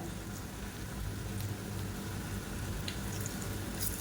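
Beetroot pakoda frying in hot oil, a steady close crackling sizzle holding evenly throughout with small pops.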